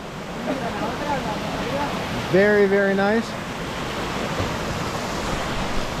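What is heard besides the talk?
small waterfalls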